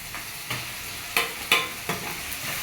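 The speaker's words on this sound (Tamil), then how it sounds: "இப்போ வந்து இறாவை அதில் போட்டுடணும்" Prawns sautéing in a hot pan with mint, coriander and curry leaves for a spicy prawn thokku, a steady close sizzle broken by a few sharp stirring scrapes and spatters.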